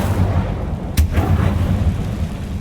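A fire spell cast in Hogwarts Legacy bursts out as one sharp, whooshing blast near the start, then settles back into a low, steady rumbling ambience with no voices.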